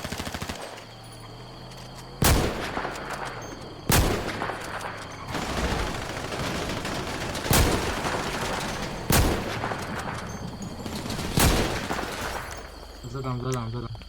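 Gunfire in a GTA roleplay game (VMP RP): several sharp, loud shots ring out one at a time at uneven intervals, separated by stretches of background game noise.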